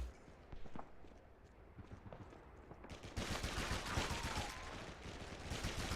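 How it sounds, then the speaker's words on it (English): Video game gunfire in dense rapid bursts, growing louder and fuller midway, with a gun reload mixed among the shots. "Got the gun that sounds like it was recorded on a Zoom call reloading"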